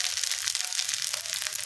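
Cooked rice with garlic fries in a pan for Filipino sinangag, giving a bright, steady sizzle and crackle with slight scraping, close and continuous.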